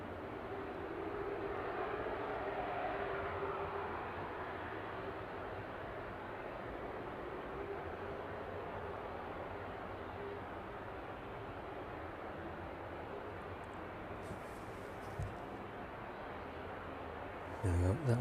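An airliner taxiing onto its stand at East Midlands Airport on an evening, a faint, even engine hum that stays level throughout, with a couple of brief clicks near the end.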